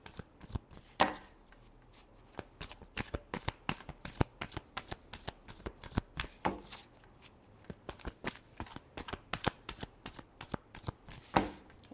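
Tarot cards are shuffled close up in a steady run of crisp, papery riffles and taps that repeat quickly and unevenly for the whole stretch, with no one speaking.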